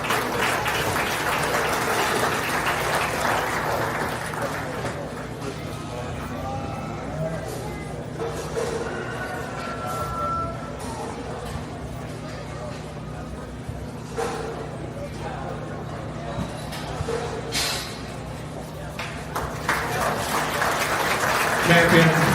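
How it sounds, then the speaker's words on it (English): An audience at a county fair steer show claps for the kids in a broad, sustained round of applause that swells at the start and end, with talk and arena noise underneath. "give these kids a big round of applause"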